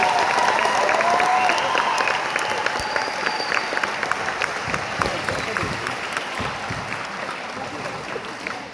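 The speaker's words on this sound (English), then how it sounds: "I want to have another round of applause for Frank for all the work he's done" Full, steady applause from students, staff and officials at a high school sports centre opening, dense and continuous with a faint whistle or cheer woven in.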